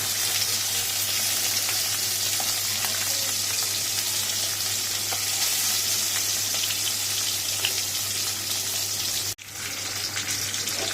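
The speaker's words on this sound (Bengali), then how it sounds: "মাছটা ছেড়ে মাছটা ভেজে নিই" Fish frying in oil gives a continuous dense sizzle, close and even throughout, with a brief dip near the end and no voices.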